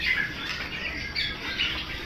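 A female songbird at a bird market gives repeated harsh squawks and rasping calls, close and fairly loud, in a few uneven bursts over a steady noisy background.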